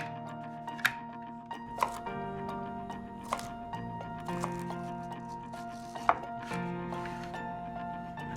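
Vegetables are chopped on a board for a chopped salad, sharp knife thuds falling at irregular intervals over a background of soft steady music, fairly close and moderately quiet, with no voices.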